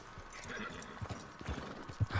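Horse hooves clip-clopping at a walk in the Western open-world game Red Dead Redemption 2, a faint, even rhythm of hoofbeats over a soft ambient outdoor bed.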